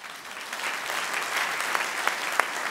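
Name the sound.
audience applause at a conference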